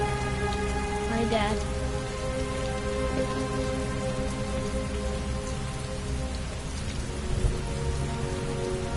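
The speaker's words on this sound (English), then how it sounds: "Heavy rain. It's been the same for weeks." Heavy, steady rainfall with dense pattering on surfaces fills the scene in the PS4 game Heavy Rain, continuous and close, with a voice speaking briefly over it.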